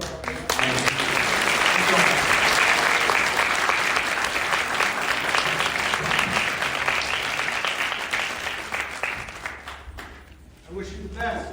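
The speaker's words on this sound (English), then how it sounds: "Just a round of applause." A large audience applauds loudly and steadily for several seconds at a political interview event, the clapping thinning and fading out near the end before a voice returns.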